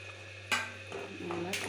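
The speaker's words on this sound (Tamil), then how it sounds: "நல்லா கிண்டிக்கலாங்க." Potato masala for puri being stirred in a pan: a close scraping, sizzling stir with a few distinct strokes over steady cooking noise, no voices.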